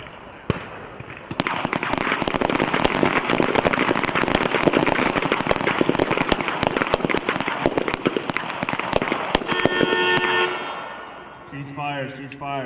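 Dense crackle of rapid pistol shots from many shooters at an army team pistol match, a fast irregular volley for about nine seconds outdoors, ending in a horn blast and a voice.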